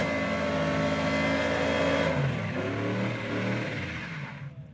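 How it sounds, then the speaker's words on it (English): A car doing a tire burnout at The Freedom Factory, its engine roaring at high revs with a steady screech of spinning tires, loud and close, then easing and fading toward the end. "That might be my finest burnout ever, right there."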